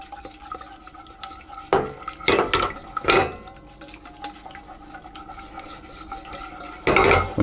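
Ingredients for a lemon curd get whisked together in a pan, with irregular metallic scraping and clinking strokes against the pan, a few louder bursts standing out over a quiet background, no talking.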